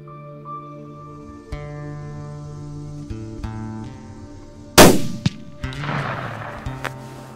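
A single sharp rifle shot rings out during a buck hunt, loud and sudden with a short decaying tail, followed by faint rustling over a quiet outdoor background.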